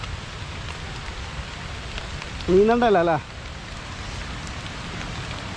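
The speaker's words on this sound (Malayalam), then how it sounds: "നല്ല മഴയുണ്ട്" Heavy rain falls at Chooral waterfall, a steady, close hiss of pouring water throughout, with one brief voice speaking over it partway through.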